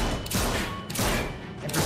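Gunfire in The Walking Dead: A New Frontier video game comes as a few heavy booming shots within two seconds, loud and close, over a dense noisy background.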